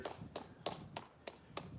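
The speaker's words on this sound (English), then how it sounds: "Let's give all of my neighbors a round of applause" Six evenly spaced hand claps, sharp and fairly close, from a small group or one person, given as a round of applause in a backyard during a live kids' PE class.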